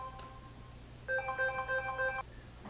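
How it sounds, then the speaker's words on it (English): A synthetic phone ringtone in the indie video game Super Locust warbles for about a second as a quick, bright electronic trill over a steady low game hum, then cuts off abruptly. "It's annoying getting phone calls."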